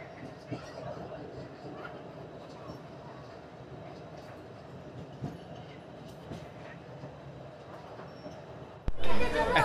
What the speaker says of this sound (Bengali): আর এদিকে ঢুকছে তেভাগা এক্সপ্রেস, যেটা বালুরঘাট থেকে কলকাতা অবধি চলে।